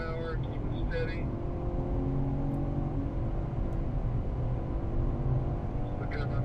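BMW car engine under steady throttle on the COTA race track, a continuous droning hum held throughout with faint intermittent talk over it.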